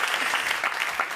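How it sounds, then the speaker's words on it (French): An audience at a stand-up comedy show applauds, a brief burst of dense, even clapping at moderate volume. "On peut l'applaudir quand même"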